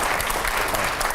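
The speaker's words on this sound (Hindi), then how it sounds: "पहले जोरदार तालियां होनी चाहिए।" A studio audience claps loudly and continuously at a televised political debate show, a dense even wash of applause filling the whole moment.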